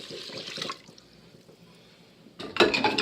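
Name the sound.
milk poured into Instant Pot for sausage gravy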